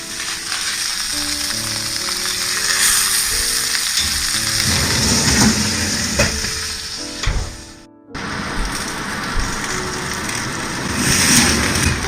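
Filet mignon sizzles under an oven broiler after being flipped, a steady, fairly loud crackling hiss mixed with clanks of the pan and oven rack and a brief pause partway through.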